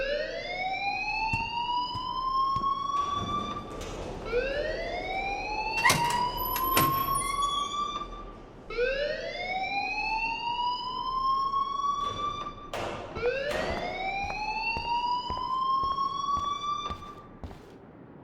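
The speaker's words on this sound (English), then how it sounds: "please turn off that alarm since that's your job" A wailing alarm siren in the video game Life is Strange rises and falls in repeated sweeping cycles, loud and continuous, with sharp clanks and bangs breaking through partway along.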